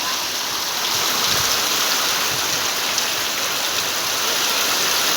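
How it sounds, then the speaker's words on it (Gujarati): Heavy rain pours steadily over the village of Surai in Chotila taluka, Surendranagar district, with water running and flowing nearby, a dense, continuous hiss that stays loud and unbroken throughout. "જોરદાર મિત્રો વરસાદ"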